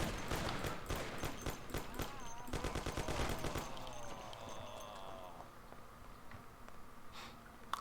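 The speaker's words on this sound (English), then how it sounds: "The recoil on the Thompson is pretty heavy, but it's very easy to control" A Thompson submachine gun in Mafia: The City of Lost Heaven fires rapid sustained bursts of sharp, dense reports, then trails off into quieter scattered shots and background game noise.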